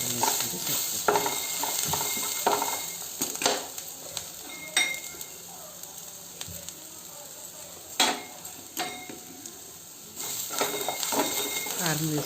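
Chili powder being stirred into frying boiled rajma, peanuts and other protein-rich beans and nuts in a pan, with steady sizzling, spoon scrapes and clinks against the metal, a few sharper knocks scattered through.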